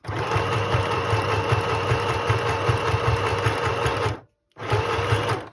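A small domestic sewing machine stitches fabric tags, running as a loud, steady mechanical whir with rapid needle rhythm, then stops briefly and starts again, with no talk over it.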